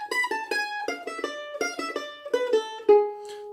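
Plucked mandolin notes in a short melodic phrase from a Bach piece, quick single notes with bright tremolo-free attacks, played alone and close up, ending on a held note.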